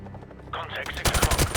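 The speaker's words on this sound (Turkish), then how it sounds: "Helikopter geri geliyor." Loud bursts of rapid automatic machine-gun fire from a helicopter battle in the story campaign of Call of Duty Modern Warfare Remastered, rising to a dense rattling volley after a rumbling build-up.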